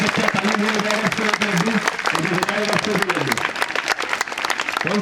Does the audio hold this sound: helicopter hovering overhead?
no